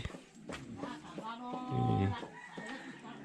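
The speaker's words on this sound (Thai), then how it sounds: "นี่ไก่เด้อทุกคนเด้อ" A mother hen clucks while brooding eggs in a rural Lahu hill village in Laos, with soft repeated clucks and other fowl calls close by under a person talking.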